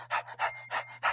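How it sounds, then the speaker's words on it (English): A dog pants heavily and close by, with four quick rhythmic breaths, each a soft burst with short gaps between them. No voices. "Dogs breathe heavy."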